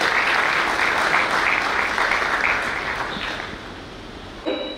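A lecture audience breaks into strong, sustained applause, dense and loud at first and then thinning and fading toward the end.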